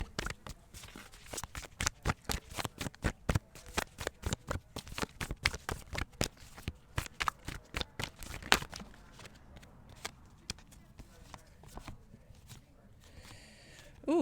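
A deck of tarot cards is shuffled in quick, rhythmic slapping strokes close to the microphone for several seconds, then gives way to quieter rustling and handling as cards are drawn.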